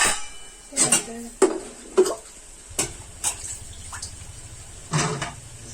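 Clattering pots and pans with a few sharp clanks, then a steady splash of water poured into a pan of cooking chicken, close by.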